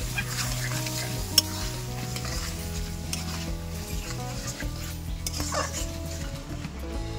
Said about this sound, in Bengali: এবার আরও কিছুক্ষণ আমি এটাকে কষে নেব